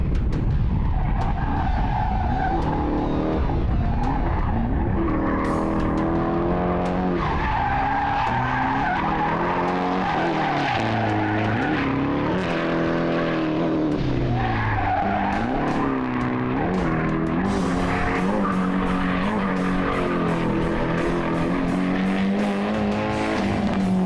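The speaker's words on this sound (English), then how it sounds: "Let's have a recap of George's excellent drifting skills." A drifting car slides with screeching, skidding tires and a revving engine, continuous loud squeals rising and falling as it swings through a drift section.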